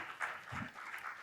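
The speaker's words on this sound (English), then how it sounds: "A round of applause for them." Audience applause for two speakers taking the stage at an agriculture technology panel, a steady wash of clapping from a crowd heard at a distance, fairly faint throughout.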